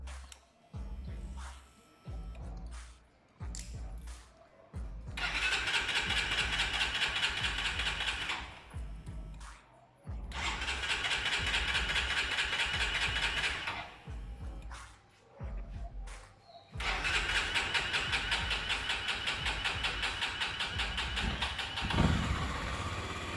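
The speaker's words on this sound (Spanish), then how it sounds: "la moto tenía nuevamente el problema del encendido en frío que todos conocemos." A Honda XRE300 motorcycle struggling with a cold start: a few short cranking bursts, then the engine catches in ragged, throttled runs that die away and restart three times, loud and close with no talk.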